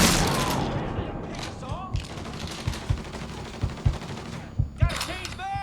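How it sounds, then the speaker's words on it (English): Rapid gunfire in Mafia 3: Definitive Edition, a dense burst of shots fading into repeated sharp reports and thuds, with character voices speaking over the fighting. "He's gunning us down."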